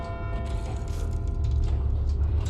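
The clock mechanism inside the Big Ben bell tower in the game Fallout London drones as a steady low mechanical hum with faint ticking, grinding overtones, heard close and continuous without speech.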